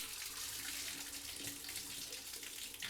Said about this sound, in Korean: 수도꼭지에 물을 틀어 상처가 난 부위에 물을 뿌려서 피와 먼지를 씻어냈다